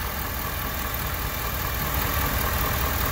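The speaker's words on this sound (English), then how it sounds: "And the motor sounds healthy." A 2015 Ford F250 with a 6.7L diesel engine idles steadily, a loud, even, unbroken rumble recorded close by with no voices.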